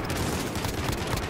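Dense, continuous gunfire from the video game Warzone, a loud, rapid barrage of overlapping shots with no pauses.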